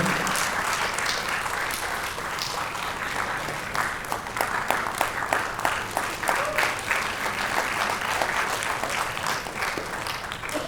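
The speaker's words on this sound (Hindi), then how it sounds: "एक बार जोरदार तालियों से" Sustained audience applause fills a stage performance at a theatre workshop in India, steady clapping from a crowd throughout with scattered louder claps.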